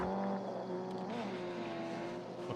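Video game car engine droning steadily at close range with shifting tonal pitch, loud throughout amid gunfire-like background noise in a battle royale match.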